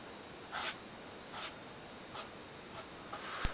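A Krink K-71 purple paint marker scrapes across a surface in four or five short, breathy strokes spaced under a second apart, close and soft against a quiet hiss.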